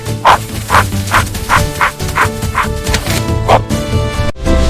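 A cartoon dog barks in a steady run of about eight evenly spaced woofs over a light backing tune, with no talking.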